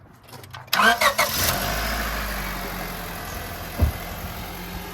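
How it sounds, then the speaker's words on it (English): 2002 Honda Civic fitted with new spark plugs, coils, alternator and battery terminals, heard up close as the starter cranks briefly and the engine catches into a steady idle, with one small thump later. "start your car and make sure it runs."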